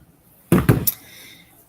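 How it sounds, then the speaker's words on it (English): A door opens with a few sharp clunks and knocks in quick succession, fairly close and loud, followed by a faint rattling tail and quiet room tone, with no talking. "That's the door opening, y'all."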